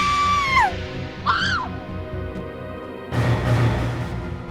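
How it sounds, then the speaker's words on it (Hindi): A woman screams in a crime drama scene, two short rising and falling shrieks followed by a burst of louder, rougher noise. "तो फिर वो क्यों चिल्ला रही है?"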